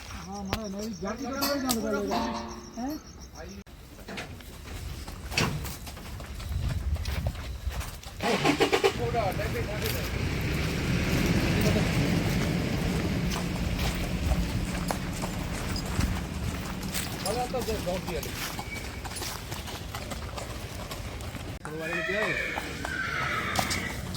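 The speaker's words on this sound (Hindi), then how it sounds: "तो अभी घोड़ी को लेके जाएंगे।" Hooves clip-clop steadily as a mare walks at a stud farm, with a whinny rising over the sound and people talking nearby; an engine rumbles in the background.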